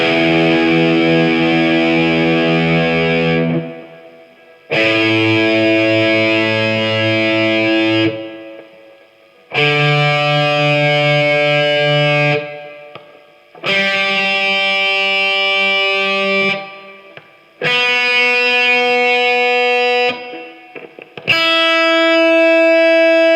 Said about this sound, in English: Hear the notes so you can tune up.